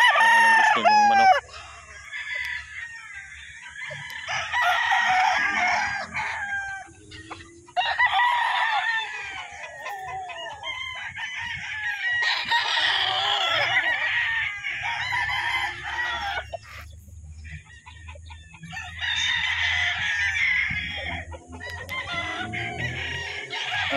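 Claret and White Kelso gamefowl roosters crow repeatedly and loudly, one after another, with clucking between the calls in a farmyard setting.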